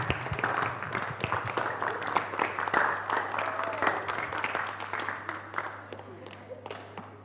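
Students in a classroom applaud during a morning appreciation exercise, scattered uneven claps and taps over several seconds with a low steady hum underneath and some voices mixed in.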